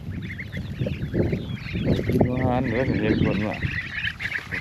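Ducks on a flooded rice farm quack and honk in a busy chorus, close and loud, while someone talks over them.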